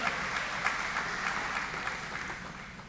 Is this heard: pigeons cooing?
no